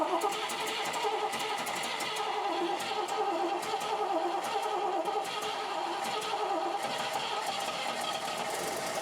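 A drag-racing car engine cranks, catches and keeps running with a loud, steady, rough roar held close throughout and no lifter tick audible.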